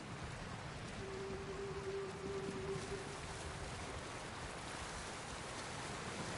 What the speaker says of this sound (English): Under the waterfall.